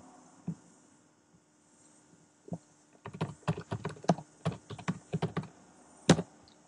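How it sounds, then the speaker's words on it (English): A command is typed on a computer keyboard at a server console: a few isolated key taps, then a quick, close run of clicking keystrokes ending in one firm final press. "just go back to the server console and type in restart"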